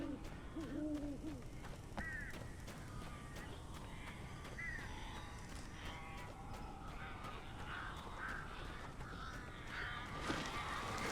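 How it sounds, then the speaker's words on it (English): Crows cawing in the video game Alan Wake, several harsh calls scattered over a dense, noisy ambient background, moderately distant and without talk. "These birds are weird."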